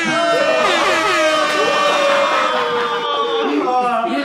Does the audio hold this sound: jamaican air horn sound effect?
yes